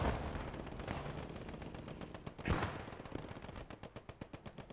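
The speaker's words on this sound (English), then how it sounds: "Jonah with that Sten gun trying to get on the inside." Sten submachine gun fire in a war video game, rapid bursts of shots with more distant gunfire around them and a louder crack midway, the shots thinning into separate evenly spaced pops toward the end.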